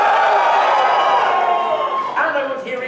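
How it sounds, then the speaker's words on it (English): A large convention crowd at an opening ceremony cheers and shouts for a team, a steady loud roar with scattered whoops rising near the end. "I want to hear a big cheer for Strike."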